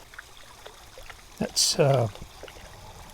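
Water from a POPOSOAP solar fountain pump sprays and splashes briefly in a bird bath. A short burst of close splashing is heard over a faint trickle, and a voice speaks a word.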